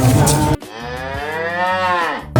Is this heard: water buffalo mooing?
yes